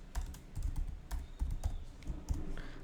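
Rapid typing on a computer keyboard while writing CSS code, a close, steady patter of crisp key clicks in uneven bursts with brief pauses, no talk.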